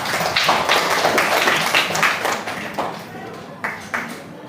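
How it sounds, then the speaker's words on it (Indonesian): Pupils in a sixth-grade classroom clap in a lively, slightly uneven round of hands at close range, tapering off into a few scattered final claps. "Beri tepuk tangan untuk kita semua"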